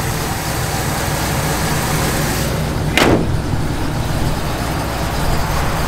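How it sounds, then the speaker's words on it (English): A 1967 Pontiac GTO V8 with an aggressive cam idles steadily in a loud, constant engine rumble, with a brief whooshing pass of another noise near the middle. "Hear that cam working."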